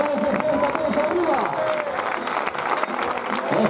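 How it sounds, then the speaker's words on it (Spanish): Loud sustained applause from an audience at a bullfighting event in Alcasser, with a dense crowd and steady clapping filling the whole stretch and a faint tone running underneath. "vamos a ver ese fuerte aplauso arriba"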